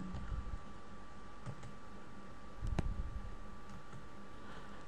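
Quiet, scattered clicks of fingers typing an address on a computer keyboard, with a few louder keystroke bursts over a faint background hum.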